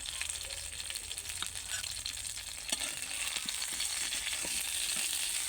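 Hilsa paturi, hilsa with mustard, frying in a pan: a steady, dense sizzle and crackle that holds evenly throughout, with a few faint scrapes and no talking.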